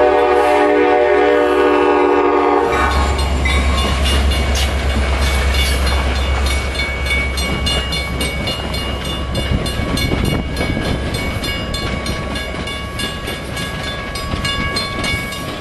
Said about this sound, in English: This is a northbound Metra at Rondout,